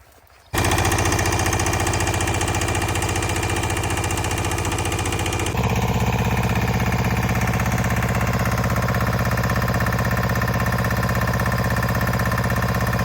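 An irrigation water pump engine on a potato field starts up and runs loud and steady, a continuous droning engine hum that shifts slightly in tone partway through.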